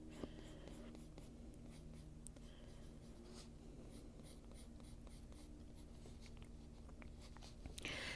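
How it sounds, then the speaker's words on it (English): Sharp pencil strokes scratch steadily across paper while shading darker areas of a wildflower folk drawing, close and continuous with fine flicking marks and a low hum underneath. "It's a sharper pencil, so we're just going to bring in some strokes in the darker areas."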